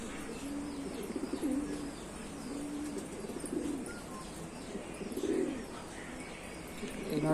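Newly brought-home pigeons cooing at home, soft low repeated coos with a few faint chirps over a steady background hiss, fairly close, with no speech.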